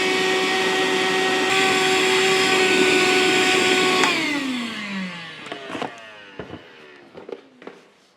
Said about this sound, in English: I'm just going to go ahead and clean this up with the shop vac real quick